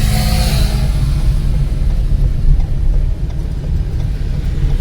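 A car cruises in third gear at 40, producing a steady, loud low engine rumble with road noise throughout and no talk.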